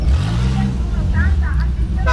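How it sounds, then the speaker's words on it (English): Classic cars roll past at the Mille Miglia road race, engines rumbling and revving close by while people talk over them. "We're going to let a few cars come through."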